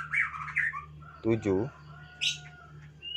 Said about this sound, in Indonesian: Ini udah ribut semua murai batu.